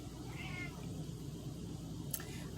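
A pet kitten meows softly a couple of times, one short mew early and another near the end, against a steady background hiss.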